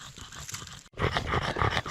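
A dog pants in hot weather on a mushroom-gathering walk in the woods, a rapid, breathy rhythm close by and fairly loud, with a brief break midway.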